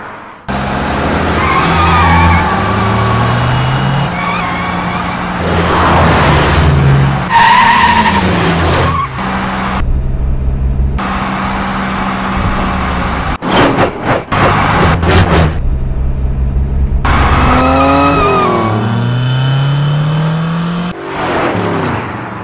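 A car in a dubbed South Indian film scene drives with revving engine and squealing, skidding tires, loud and continuous with music-like tones, ending in an abrupt stop.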